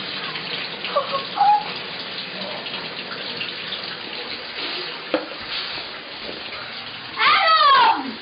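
Shower water running continuously in a bathroom, a steady hiss with a couple of brief voice sounds over it and a louder splash toward the end.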